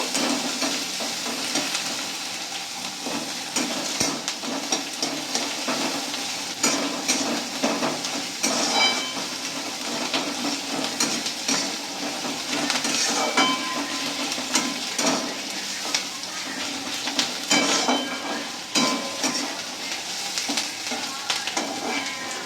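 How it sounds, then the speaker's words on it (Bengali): Onions fry in oil until reddish brown for a Bengali bata fish curry with cumin paste, giving a loud, continuous sizzle. Stirring scrapes and occasional clatters of the pan run through it, with no one speaking. "পেঁয়াজগুলোকে লাল লাল করে ভেজে নেব।"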